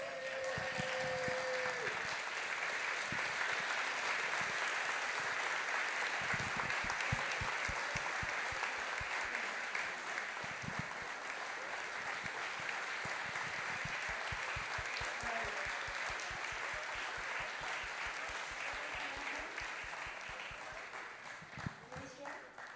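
A standing audience claps loudly and steadily at a book launch for the biography of Greysia Polii, a dense continuous ovation that runs the whole way and eases off slightly near the end, with voices faintly mixed in.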